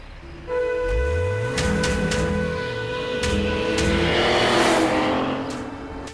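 A car starts up and drives off, its engine climbing steadily in pitch as it accelerates, loud and close, then holding a sustained roar with a faint whine on top.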